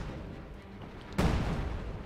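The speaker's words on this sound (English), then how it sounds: "this can use the light artillery actually," A Company of Heroes 2 battle, where a light artillery barrage lands as one loud, sudden impact after a low rumbling backdrop, followed by a lingering noisy roar.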